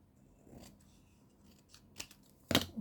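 Scissors trim paper for a collage brochure with a few quiet snips, closing on one sharp, louder cut near the end in an otherwise hushed room.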